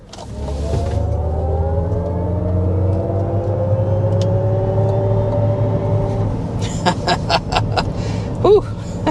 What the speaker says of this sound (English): first we need to go ahead and show you all that power that this vehicle has with a hard acceleration.